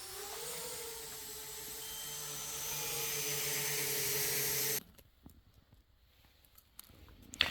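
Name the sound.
DJI Mini 2 drone flying with 3D-printed toroidal propellers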